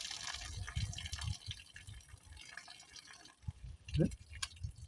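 Water trickles and drips as it drains off cardoon greens during cooking, a faint, uneven splashing with a sharper gush near the end, softly audible amid low kitchen noise.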